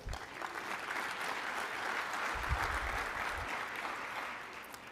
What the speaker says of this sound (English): Please give Govini a big round of applause.